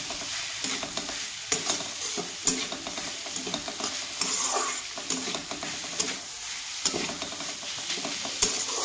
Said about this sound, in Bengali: তো এইভাবে একটু পরপর আমার কুমড়োটাকে ভালোভাবে নাড়িয়ে নিতে হবে